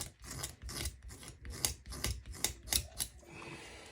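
A blade scrapes leather to thin it, a rhythmic series of close, rasping strokes, about ten in quick succession, each a short gritty rub before stopping.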